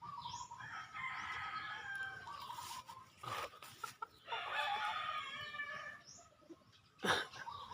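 A rooster crows twice in long, strained calls, close by, with softer clucking and bird chatter between the crows.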